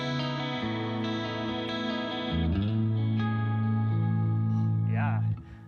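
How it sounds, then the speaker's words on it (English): Guitar run through a HyperRig processor set to a classic Roland Juno-style stereo chorus, sustained chords shimmering and swirling, each held for a few seconds before changing, loud and alone until a brief vocal sound at the end. "The classic mode is more like your traditional Roland Juno style stereo chorus"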